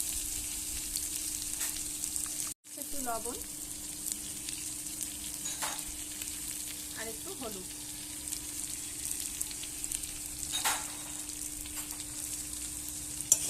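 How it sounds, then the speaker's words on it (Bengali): Potatoes fry in a pan with salt and turmeric, a continuous soft sizzle with occasional stirring scrapes heard up close, while a voice speaks briefly over it. "একটু লাল লাল করে আলুটা ভাজা হলে পেঁয়াজটা দিয়ে দেবো"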